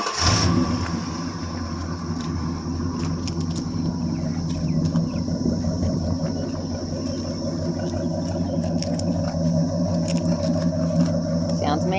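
A 1964 Ford Galaxie 500 XL with a 390 big-block V8 and 4-speed runs with a steady, deep idle rumble throughout, heard close, with a brief burst at the start and faint crickets.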